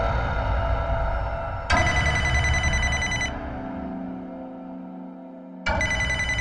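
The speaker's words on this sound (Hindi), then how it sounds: "आपका फोन आ रहा है।" A phone rings with a bright electronic ringtone, loud and close, sounding in two bursts separated by a quieter stretch with a low tone, no speech.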